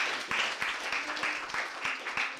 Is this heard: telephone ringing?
no